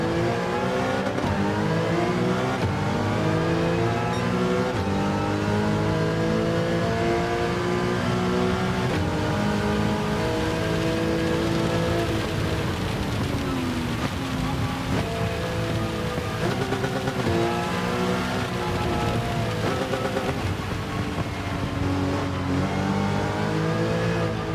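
Porsche Cup race car in a racing video game, driven on a wet track: a continuous engine drone rising and falling in pitch through gear changes and throttle, with rain and tire hiss underneath, no talk.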